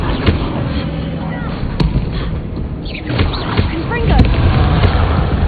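Repeated heavy explosive blasts from the Confringo fire spell in Hogwarts Legacy, booming thuds with sharp cracks over a busy rumbling game soundscape, with a voice speaking between them.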